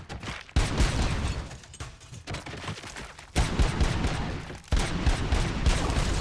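Gunfire in the video game Robocop Rogue City, dense bursts of rapid shots in loud continuous stretches broken by brief pauses.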